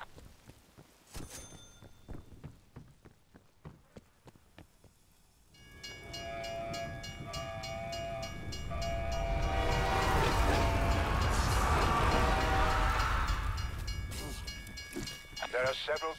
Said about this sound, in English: There are several trains trapped in a loop through this station.